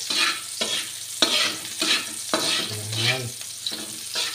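Garlic browns in a frying pan as part of a chicken tinola, with a loud close sizzle and repeated stirring scrapes in a steady rhythm, and a brief voice speaks near the end.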